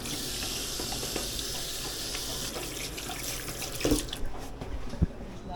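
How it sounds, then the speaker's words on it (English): Tap water runs steadily into a sink for hand washing before a sushi-making class in Osaka, a continuous broadband hiss with a few louder splashes and clunks near the end. "Before cooking, you wash your hands."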